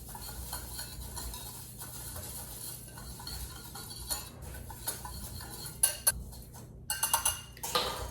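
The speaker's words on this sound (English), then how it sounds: "And then we just simply whisk them together." Dry onion soup mix spices and pepper whisked together in a bowl, a quiet, rapid metallic ticking and clinking close by, with a few louder clatters toward the end.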